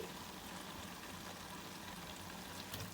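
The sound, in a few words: frying grated carrot with ghee and milk powder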